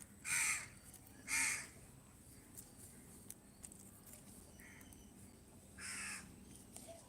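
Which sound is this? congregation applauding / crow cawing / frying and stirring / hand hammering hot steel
crow cawing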